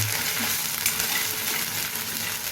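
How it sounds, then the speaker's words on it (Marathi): Ginger paste frying in hot oil in a pan while being stirred, a steady close hiss and crackle with faint scraping, no voices present. "पेस्ट पण थोडी भाजली पाहिजे तेलामध्ये परतून घेऊया"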